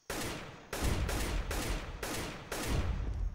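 Counter-Strike gunfire rings out in several loud, close bursts of rapid shots, each cut off sharply before the next begins, with no talking.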